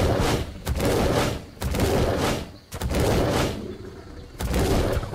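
Rapid gunfire bursts in the video game Ark, several loud volleys separated by brief pauses, with no voices over them.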